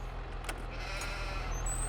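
A sheep in Farming Simulator 22 bleats faintly against a steady low engine rumble, with a couple of brief higher calls rising over the continuous drone.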